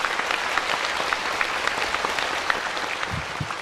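An audience claps steadily after a talk at a New Year meditation gathering, a dense, continuous patter of many hands that holds level throughout, with no speech over it.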